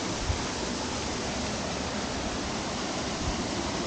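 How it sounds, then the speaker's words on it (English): Hindhope Linn waterfall roars as a steady, dense broadband wash of falling water, continuous and enveloping, with no talking over it. "This is the best viewing point for the waterfall."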